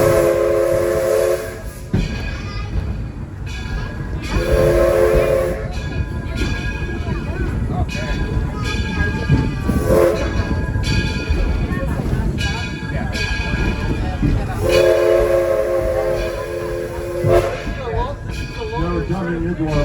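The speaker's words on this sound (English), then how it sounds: "First you'll hear the bell ring, then you'll hear the whistle blow." A steam train whistle blows in long and short blasts over a continuous hiss and rumble, with a rapid ringing bell running underneath.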